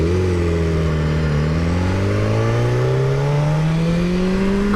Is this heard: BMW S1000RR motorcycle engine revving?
yes